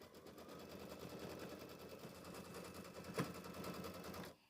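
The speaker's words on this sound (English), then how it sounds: "we are to the final step of being able to stitch out our cutting diagrams" An embroidery machine stitches out cutting diagrams for a mini quilt block, a steady fast mechanical chatter at moderate distance that runs evenly for several seconds before stopping abruptly.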